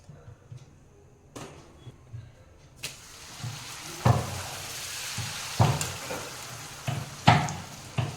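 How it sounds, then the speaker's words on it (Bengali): Puchka (pani puri) shells dropped into hot oil, starting with faint crackle then swelling into bubbling sizzle with repeated sharper splashes and bursts as each piece fries. "তো তোমাদেরকে এবার ভেজে দেখাচ্ছি।"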